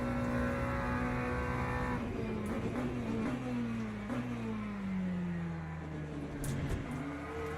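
Hypercars in an online racing game roar past with strong, steady engine drone and rising and falling pitch sweeps as they overtake through a wet switchback at Curva Grande, loud and continuous throughout.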